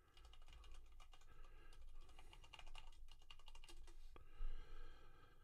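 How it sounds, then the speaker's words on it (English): A username and password are typed on a computer keyboard in a rapid, irregular patter of close, quiet key clicks, with a slightly louder cluster of strokes near the end. "Let me put in my username and password here."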